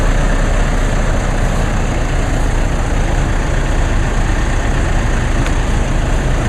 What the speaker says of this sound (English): now the idle has gone down on the Mercedes